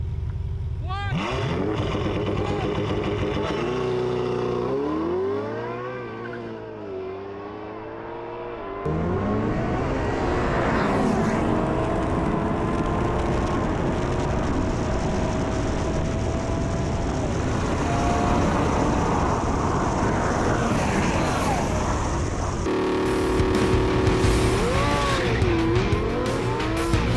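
A Ferrari 812 supercar launches hard in a drag race on a cold track, its engine revving loud and rising through gears with tyre noise, close and sustained for most of the run, with voices faintly underneath.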